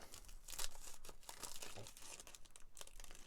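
Quiet, close crinkling and snipping of plastic in quick irregular bursts, like scissors cutting through a thin sheet.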